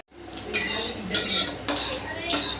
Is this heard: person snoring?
no